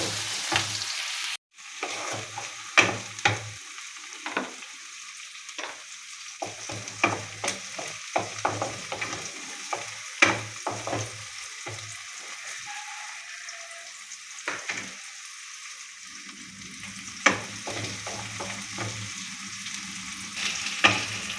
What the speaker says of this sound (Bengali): পেঁয়াজগুলো খুব ভালোভাবে নেড়ে চেড়ে একটু